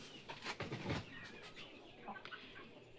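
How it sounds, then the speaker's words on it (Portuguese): Free-range hens clucking in a laying nest box area, several soft calls and clucks close by with a little rustling, no talk. "Tem umas galinhas botando dali, ó."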